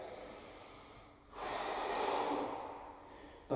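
During stomach crunches in a conditioning circuit, a person breathes out heavily and forcefully through the mouth in one long, close, breathy exhale, then takes a short sharp breath at the end.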